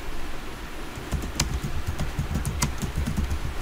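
Someone types a command on a computer keyboard, tapping keys quickly and irregularly at close range over a steady background hum.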